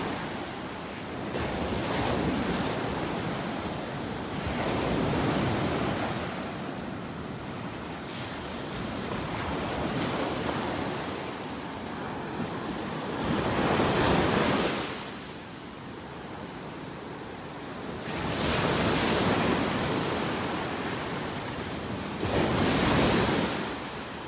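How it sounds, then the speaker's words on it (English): Ocean waves break on a beach in North Naples, Florida, as the tide rises, making broad rushing surges every few seconds over a constant hiss of surf, with no voices. "Those waves are coming higher and higher."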